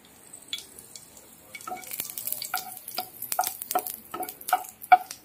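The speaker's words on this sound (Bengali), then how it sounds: "শুকনো লঙ্কাটা একটু ভেজে লাল করে নেব" Dried red chilli fries in oil in a pan for a sour mango and split-pea dal. Close, rhythmic stirring scrapes and bursts of crackling sizzle grow busier and louder as it cooks.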